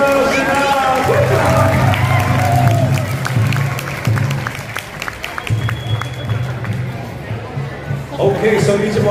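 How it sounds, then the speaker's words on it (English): Crowd applause at a powwow for the head organizer, steady clapping and cheering running throughout, mixed with an amplified announcer's voice and a low droning hum. "How about they put your applause for our head organizer, Deja Chanel?"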